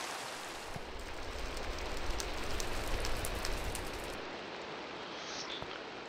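Steady rain falls in the video game Temerity, a dense, even hiss of drops on surfaces that swells slightly in the middle and continues unbroken to the end.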